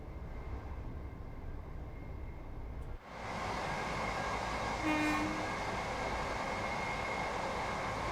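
A train passing in Train Sim World 4 on Scotland's Fife Circle Line: a sudden rush of broad rolling noise that rises and holds steady, with a brief horn-like tone midway.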